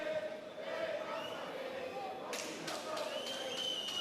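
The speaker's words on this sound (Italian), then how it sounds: "Abbiamo lasciato un po' di effetti di sottofondo perché è una sfida anche di" Crowd cheering in the background at an Italian Serie A1 rink hockey match between Bassano and Valdagno, a steady roar with rising whistles and shouts, while a commentator talks over it.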